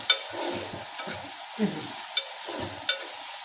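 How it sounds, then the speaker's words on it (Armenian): Food fries in a covered pan, giving a soft steady sizzle under several sharp clicks and scrapes, likely the spatula or lid, spaced through it, with no talking. "Մի հատ էլ դերանը փակենք, որ տապակվի նորմալ։"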